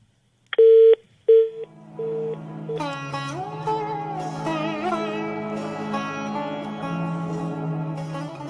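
Telephone keypad tones beep as a caller is dialed into a Pakistani FM radio call-in show. A few loud, distinct tones are followed by a steady line tone, then soft music continues underneath.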